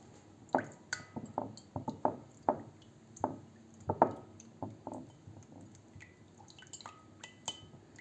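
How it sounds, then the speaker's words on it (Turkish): Warm water, warm milk and oil splash into a kneading bowl for pizza dough, heard as a close series of wet drips and soft knocks with uneven gaps and no speech. "Bunların hepsini yoğurma kabına alıyorum"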